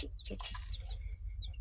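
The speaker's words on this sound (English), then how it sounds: "Oh, let's show you the chicks." Young chicks in a backyard coop in winter give a few close, high cheeps and chirps over a short moment, with a faint flutter and no speech.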